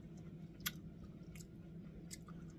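Spaghetti squash topped with spaghetti sauce chewed softly at close range, with faint wet mouth sounds and a few sharper clicks over a low steady hum.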